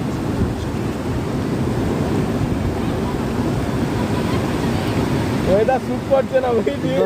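Sea waves at Digha beach, a loud continuous rush of surf with wind buffeting the microphone, and a brief voice near the end.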